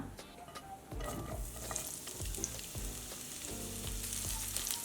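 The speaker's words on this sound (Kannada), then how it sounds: "ಈರುಳ್ಳಿ ಕೆಂಪಗೆ ಹುರ್ಕೊಳ್ಳೋಣ" Two medium onions fry in about a teaspoon of oil in a pan, giving a steady close sizzle with repeated scraping stirs and no voices.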